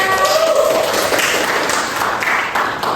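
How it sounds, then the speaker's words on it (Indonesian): Classroom applause for a student named Rizka: a few seconds of dense, bright clapping from a group of pupils, fairly close and steady, tapering slightly toward the end. "Tepuk tangan untuk Rizka"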